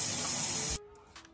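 A spray can hisses in one loud, continuous, close burst that cuts off abruptly, leaving faint room noise.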